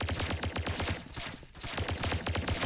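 Rapid automatic gunfire fills the Roblox shooter Arsenal, with loud, dense repeated bursts, a brief pause in the middle, and then the shooting resuming just as steadily.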